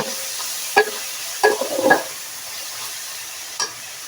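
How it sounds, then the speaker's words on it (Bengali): Garlic paste sautés in a pan under a low steady sizzle, with a few clinking, scraping stirs of a spoon in the middle and one more near the end. "দুই টেবিল চামচের মতন রসুন বাটা দিয়ে দিলাম এটা আমি একটু কষিয়ে নিব"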